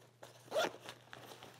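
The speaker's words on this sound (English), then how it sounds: "Zip that up." A zipper is drawn closed on a compartment of a USWE Outlander hydration pack, one short rasping pull heard close up and on its own.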